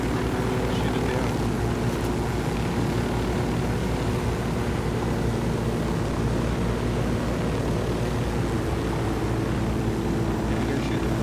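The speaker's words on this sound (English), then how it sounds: "Hey, look, we're catching up to that plane." A propeller plane flies in the Ghost Recon Wildlands video game, giving a loud, continuous droning engine hum with steady low tones that persists unchanged the whole time.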